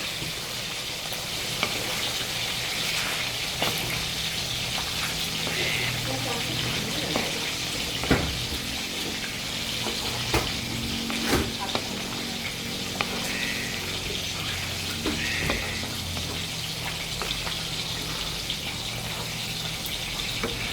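Shredded cabbage stir-frying in a wok for pancit canton guisado, a steady hiss of sizzling with occasional clacks of a spatula, close and continuous.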